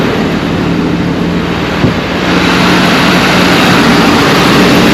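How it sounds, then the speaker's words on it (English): A compressor running steadily and loud, a constant low hum with broadband hiss and a single brief knock partway through, no voices. "Maybe it is the compressor"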